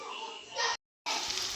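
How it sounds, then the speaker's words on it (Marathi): Cumin and mustard seeds tempering in hot oil with chopped garlic and coriander, giving a bright, hissing sizzle up close that cuts out briefly before resuming. "जिरे मोहरीची फोडणी देऊन बारीक केलेली कोथिंबीर आणि लसूण टाकून घेतलं"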